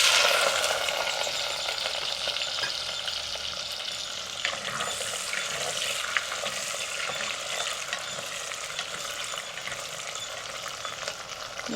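Chopped small onions and fenugreek seeds fry in hot oil for a Tamil fish curry, a loud, close, continuous sizzle with stirring scrapes throughout and no talking.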